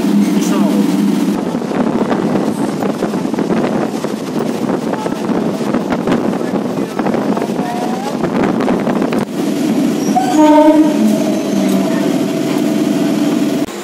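A passenger train runs on rails between Tahirpur and Krishnanagar, giving a continuous loud rumble with wind buffeting the microphone and a brief tonal sound near the end.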